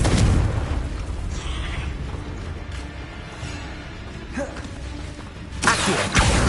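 A Confringo fire spell blasts in Hogwarts Legacy on PS5: a dense, roaring explosive rumble that holds throughout, then swells into a sharper, louder burst near the end.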